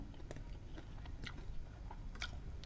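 Soft wet chewing and biting on grilled river prawns, a few crunchy close-up bites over a steady low background murmur, quiet and brief.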